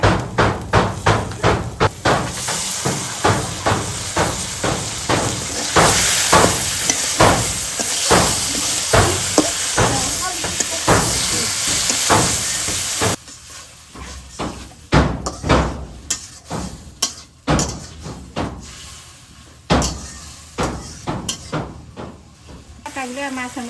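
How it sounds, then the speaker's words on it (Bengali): Fish tossed with garlic paste in a hot pan on a village kitchen fire, with repeated sharp scraping strikes of a spatula over steady sizzling, loud at first and then quieter and sparser, with some talk. "মাছের মধ্যে কষান করে নিই"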